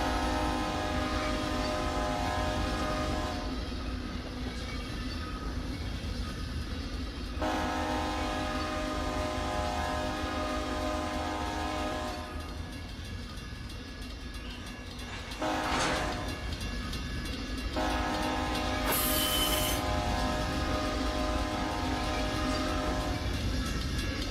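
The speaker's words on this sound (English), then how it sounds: "I like the sound of this horn." A locomotive horn in the Run 8 train simulator game blows in several long sustained blasts near a crossing, loud over the constant rumble and clatter of the rolling train.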